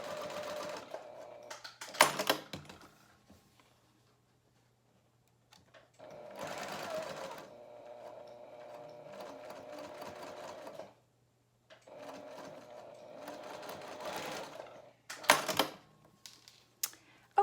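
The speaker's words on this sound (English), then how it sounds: "I'm just going to baste this right on the 1/4 inch." Sewing machine basting fabric layers at a quarter inch for a face mask lining runs in three bursts of rapid mechanical stitching separated by pauses, with a few sharper clicks and no talking.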